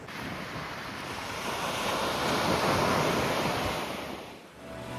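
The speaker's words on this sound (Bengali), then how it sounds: "শুধুমাত্র সমুদ্রের গর্জন শুনতে পাওয়া যায়" Ocean surf roars continuously at Parikhi beach, a broad rushing wash that swells louder midway and eases off, with wind buffeting the microphone.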